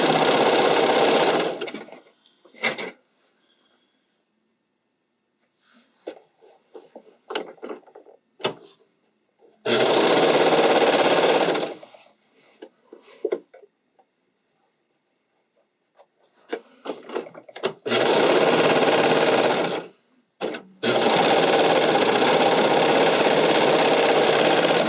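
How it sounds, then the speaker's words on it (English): Sewing machine stitching the side, shoulder and crotch seams of a bodysuit, long steady whirring runs of needle chatter broken by pauses filled with fabric rustling and handling, close and clear. "Now I'm going to sew the side seams, the shoulder seams, and the crotch seam all together."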